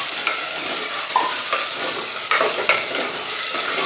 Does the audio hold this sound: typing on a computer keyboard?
no